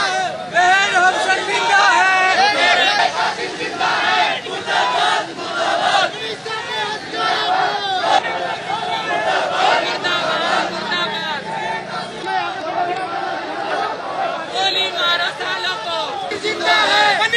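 Dense protest crowd of many voices talking and shouting at once, a continuous loud babble with overlapping calls and no single voice standing out for long.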